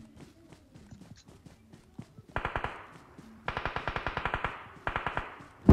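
Rapid automatic gunfire in the mobile shooter BGMI, arriving in several sharp bursts of a dozen or so shots each, loud and close, with lighter footstep-like ticks and game noise between the volleys.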